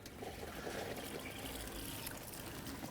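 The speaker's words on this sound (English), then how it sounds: "we're going to pull the outside shower out, turn our water pump on" Water runs from an RV's outside shower on a Winnebago View, a faint steady trickling spray that continues unbroken.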